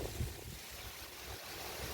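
Strong wind blows outdoors in a garden, buffeting the microphone with a steady broadband roar and low rumble, with no voices.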